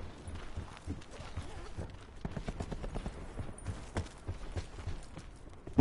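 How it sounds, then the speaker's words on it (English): Rapid footsteps in Call of Duty Blackout, a dense patter of steps running close by on all sides, loud and steady with scattered sharper hits among them and no talking over them. "I hear footsteps all around me."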